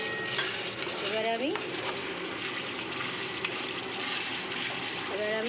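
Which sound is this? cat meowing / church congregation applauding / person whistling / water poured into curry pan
water poured into curry pan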